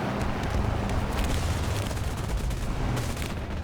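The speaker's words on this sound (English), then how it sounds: "plane is being strafed by enemies" Dense, continuous gunfire and explosive rumble in War Thunder as enemies strafe a damaged plane, a loud, unbroken barrage of rapid shots and booms lasting throughout.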